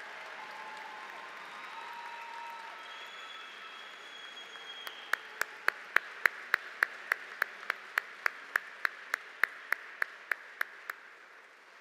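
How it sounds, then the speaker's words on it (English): Audience applause for an alumni awardee from the class of 1949 at a university spring commencement, starting as a soft crowd wash, then a run of about fifteen sharp, evenly spaced loud claps, as if amplified near a microphone. "Let's give him a round of applause."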